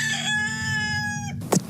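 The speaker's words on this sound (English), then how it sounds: "The roosters were freaking out." A rooster crows once on a farm during a storm, a loud drawn-out harmonic call lasting over a second, followed by a brief sharp squawk from nearby.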